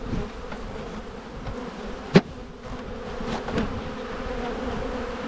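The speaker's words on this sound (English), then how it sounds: "Lots of bees in the lid as well." Honey bees clustered in a hive lid hum in a steady, close buzzing drone, broken once by a sharp knock.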